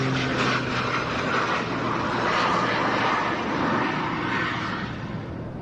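A Pitts Special aerobatic biplane climbs steeply into the vertical at an air show, its engine a loud, continuous droning roar that swells slightly, then eases as it pulls away.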